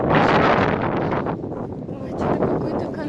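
Wind buffets a microphone outdoors, a loud, continuous roar with rising and falling gusts that fills the whole stretch.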